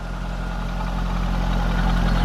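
A 2000 Chevrolet Corvette coupe's V8 engine idles steadily through its tuned exhaust with stainless steel mufflers, a deep rumbling burble that stays even and close with no talking.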